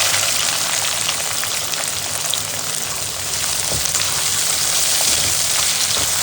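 Chopped onions, about a quarter kilo, frying in oil inside an electric rice cooker make a steady, loud, dense sizzle like rain that never lets up.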